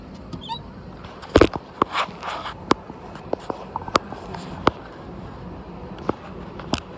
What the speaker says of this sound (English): I'm gonna try to chip this ice away if the ice is really what the problem is